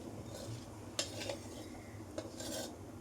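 Gobindobhog rice tipped into a pot of spiced oil and fried, giving a soft scraping and rasping of a metal spoon against the pan with a couple of sharper clinks, close and quiet over a steady background hiss.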